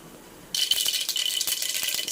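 A sudden burst of sizzling and rapid popping starts up close and continues as mustard seeds crackle and spit in hot oil in a pressure cooker.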